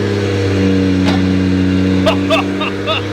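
A 1000-horsepower Toyota 2JZ engine in a car up on a lift idles loud and close with a deep steady drone, a few throttle blips flickering over it while voices talk faintly underneath.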